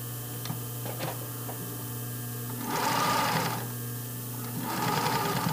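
Domestic sewing machine running a reinforcement stitch across a thick panty seam: two short bursts of rapid mechanical stitching over a steady motor hum, close by and without talk.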